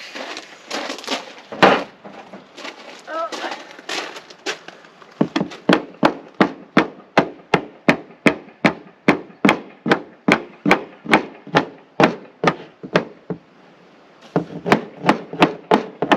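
Board and batten siding on a barndominium is nailed with a hammer: a string of sharp, close wooden strikes in a steady quick rhythm, following a brief stretch of softer handling noise, with a short pause before a few more blows.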